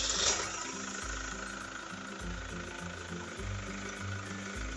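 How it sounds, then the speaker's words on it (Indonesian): Chevrolet Captiva, a 2013 model, idling with an automatic-transmission oil flushing pump running, a quiet steady engine hum broken by rhythmic low thumping pulses about once a second, heard up close with no speech. "Pompa kita nyalakan, kemudian mesin nyala."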